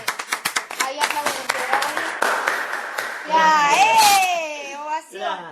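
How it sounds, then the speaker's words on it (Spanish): Audience applause picked up through microphones during a digital broadcast panel, with a burst of scattered sharp claps at first, followed by speech and voices that rise over the fading clapping. "la verdad que ahí aplauden"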